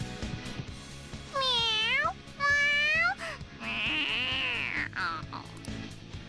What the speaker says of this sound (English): All right, that's enough, you stupid cat.